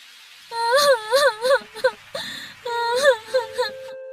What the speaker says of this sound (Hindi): रास्ते में उसे एक लड़की के रोने की आवाज सुनाई दी।